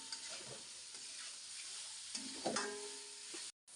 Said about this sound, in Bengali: এখন আমি সুন্দর করে তেলে ভেজে নেব